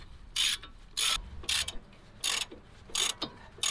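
A ratchet wrench backs out brake caliper bolts, giving bursts of rapid clicking, about six close bursts separated by short pauses, with no talk.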